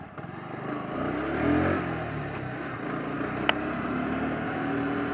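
A 2023 Bajaj Pulsar NS 125 BS6 motorcycle riding along, its engine a steady droning hum that swells briefly then holds even, heard up close without talk.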